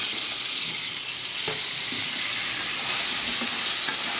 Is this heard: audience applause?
no